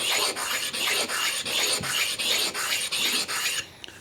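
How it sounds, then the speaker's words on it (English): A flattening stone rubbed back and forth across a sharpening stone to true it, giving a steady rasping scrape in about a dozen even strokes, close and loud, ending with a few faint taps. "you could take this stone, you hold it on there nice and flat, and you just rub it back and forth"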